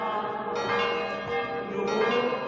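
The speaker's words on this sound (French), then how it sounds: "le 24 mai, les cloches retentissent" Church bells peal continuously and loudly for a Gitan pilgrimage procession day at Saintes-Maries-de-la-Mer in the Camargue, with rich ringing overtones and no voices.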